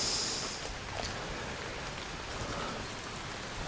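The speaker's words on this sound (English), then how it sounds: "The rain's still coming down." Steady rain pours down during a thunderstorm, a dense even hiss of drops on surfaces that continues without a break and with no voices.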